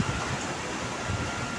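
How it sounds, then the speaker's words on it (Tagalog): Heavy typhoon rain and wind outside a house, a steady, loud, broadband rushing hiss with no distinct drops or gusts standing out and no voices over it. "Lakas ng ulan mga idol, lakas ng ulan, hangin."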